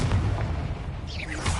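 A Confringo blasting curse explosion in Hogwarts Legacy, a short deep boom with a rumbling burst, loud and close, followed by a brief crackling tail and a second thump near the end.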